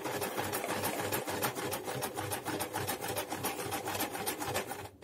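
A sewing machine stitching fabric runs steadily and close, its fast rhythmic stitching pulse unbroken for several seconds with no voices.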